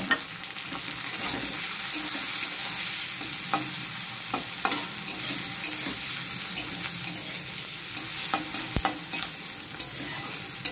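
Fried onion and chopped tomato stirred in a pan, a steady soft sizzle with scattered scraping and clicking of the spoon, close and continuous, with no talk.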